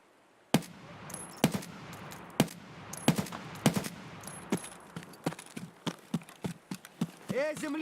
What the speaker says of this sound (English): I think this was a normal scav shooting at me